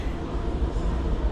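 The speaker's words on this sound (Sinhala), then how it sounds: "ඔන්න දැන් ට්‍රේන් එක එනවා." A Singapore metro train rolls into a station platform, a low steady rumble filling the space for a moment with no talk.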